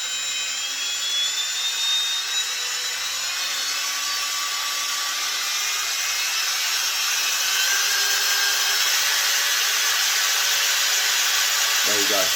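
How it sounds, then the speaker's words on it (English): Makita DBS180 cordless belt sander running at its maximum 1700 RPM setting, a loud, continuous high whine and belt rush held steady and close throughout, with no talking. "DBS180 Makita belt sander"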